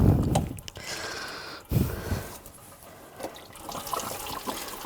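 Engine coolant draining from a 2006-2010 BMW 550i during a water pump replacement, a close, uneven splashing trickle of liquid with a few louder gushes and clunks.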